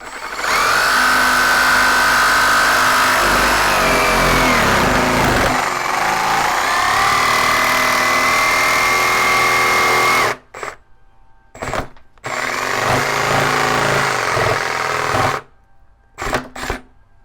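Milwaukee M18 Fuel brushless D-handle jigsaw cutting, a loud buzzing, reciprocating whine held for about ten seconds, then short bursts of cutting separated by silent pauses.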